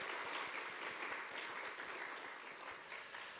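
A church congregation claps together during a worship service, a sustained, fairly quiet round of applause with a steady patter of hands and no speech.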